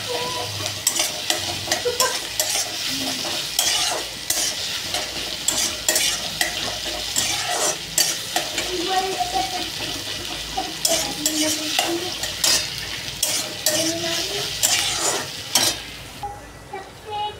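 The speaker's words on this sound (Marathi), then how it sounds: "पुढे सगळे व्हेजिटेबल हे चांगले शिजू देऊ।" Vegetables and soya chunks cooking in a pan, with a continuous loud sizzle and frequent clattering scrapes of a spoon stirring against the metal throughout, no speech.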